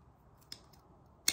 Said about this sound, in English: So I'm just going to snip out the dead stick in the middle.